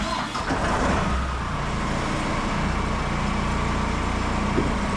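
A forklift is driven out after brake repair work, its engine giving a steady, close rumble with no talk.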